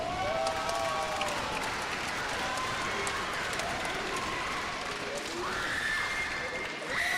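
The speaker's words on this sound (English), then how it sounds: "big round of applause for this awesome fight" A crowd applauds and cheers after an MMA fight at a Barebones MMA Championship event, a steady wash of clapping and shouting that continues throughout with voices mixed in.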